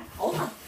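A pup whines once, short and close, asking to be let out the door.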